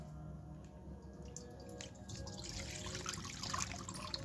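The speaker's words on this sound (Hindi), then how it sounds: "अब इस दूध को हम इस कढ़ाई में डाल देंगे" Milk poured from cut plastic bags into a kadhai on a lit gas stove while making khoya at home; a faint, soft trickle and splash that grows fuller and louder partway through.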